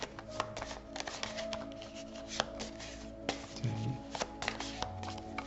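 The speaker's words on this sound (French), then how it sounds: "Je vais mélanger les cartes pour lui." Tarot cards are shuffled by hand in quick, close riffles and slaps, a busy run of papery flicks and taps with a low hum in the background.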